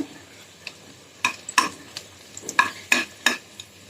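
Garlic and dried red chilies fry in mustard oil in a pan, with sharp, irregular scrapes of a spatula stirring over a faint background sizzle.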